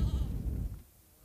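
Goats in a Zambian village, a short bleat close by and fairly faint, fading out into quiet after under a second.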